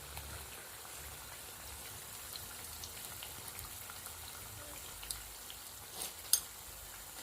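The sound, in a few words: soya egg rolls deep-frying in oil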